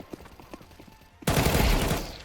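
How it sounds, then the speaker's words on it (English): An enemy fires through a wall in Counter-Strike 2. A few faint, muffled shots come first, then a sudden loud burst of rapid gunfire that keeps going to the end. "Now we have just heard the last guy shooting through that wall"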